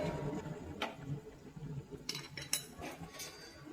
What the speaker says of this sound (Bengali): আবার কড়াটা বসিয়ে দিলাম।